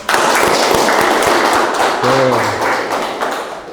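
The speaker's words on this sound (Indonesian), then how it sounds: "Kasih aplaus, Riko" A lecture audience gives a round of applause: steady, dense clapping at close range lasts several seconds, with a brief voice over it before it fades slightly toward the end.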